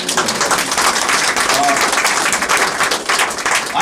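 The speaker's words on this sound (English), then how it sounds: "I really think her team, Brenda Lawson's team, does deserve an extra applause" An awards-ceremony audience at a juried watermedia art exhibition applauds steadily and densely for an organizing team, a continuous wash of many hands clapping with a faint voice or murmur mixed in.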